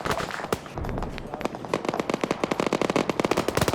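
PKT machine gun fire from an Mi-8 helicopter in a military shooter game comes as long, loud, rapid bursts of gunfire with dense overlapping shots and no talking.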